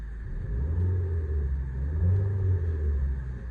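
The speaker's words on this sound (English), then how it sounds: "I will give the engine a quick rev so you can hear it." A 2013 Vauxhall Mokka 1.4T Techline with about 60k miles gets a quick rev, heard from inside the cabin as a low, muffled engine rumble swelling and easing back, fairly quiet and smooth.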